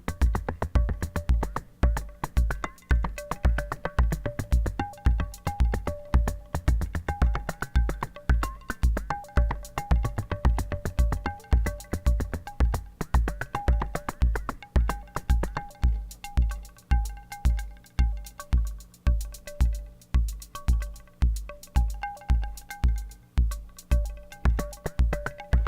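A homemade modular synth patch sends its voice through a DSP module set to delay mode, giving steady rhythmic pulsing notes with repeating echoes. The loud, evenly clocked sequence runs alone for the whole stretch.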